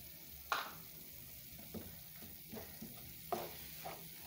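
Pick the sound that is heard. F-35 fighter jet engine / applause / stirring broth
stirring broth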